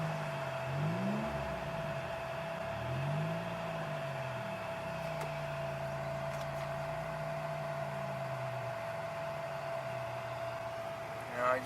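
A 2002 Chevy Malibu engine idles with the air conditioning running, giving a steady close hum with a whining tone and slight wavering RPM swells, plus faint clicks and a brief bump at the end.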